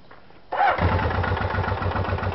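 A Honda motorcycle engine cranks and fires after half a second of quiet, then settles into a close, loud, steady idle with a rhythmic pulsing beat.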